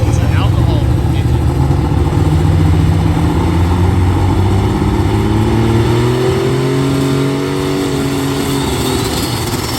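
The alcohol-fuelled engine of a Peterbilt sled-pulling truck drones and revs steadily and loudly for the whole stretch, with its pitch slowly rising and falling.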